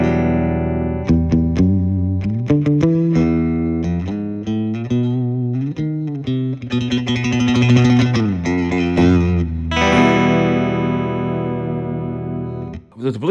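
Electric guitar on its middle pickup through a Fender Blues Junior amp, playing a run of low notes and chords with sustained, slightly overdriven tone and some ringing decay, alone with no talking.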